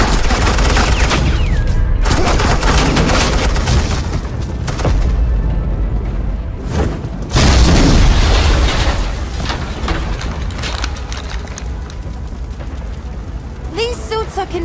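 Suppressing gunfire in the Batman The Enemy Within video game, dense, loud bursts of automatic fire and booming impacts that roll on for several seconds, with voices heard among the shooting.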